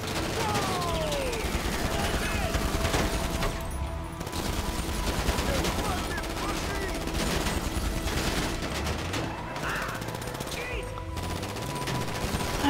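Rapid bursts of video game gunfire in GTA, mixing machine-gun fusillades and single shots that run nearly continuously at moderate loudness.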